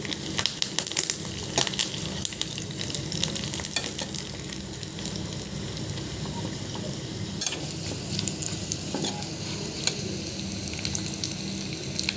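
Tempering for spinach dal sizzles and crackles in hot oil, a dense steady frying hiss with scattered pops, close and alone without voices.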